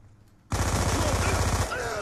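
Gunfire in the video game Black Ops 2 bursts in suddenly after a short quiet lead-in: a loud, dense, rapid volley of shots that keeps up steadily to the end.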